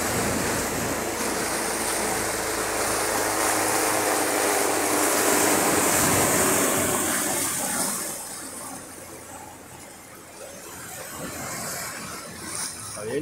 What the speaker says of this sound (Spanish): Haciendo olas aquí.